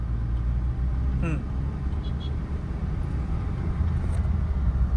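A car being driven through town traffic hums with a steady, close engine and road rumble from inside the cabin while the driver speeds up. A voice speaks briefly over it.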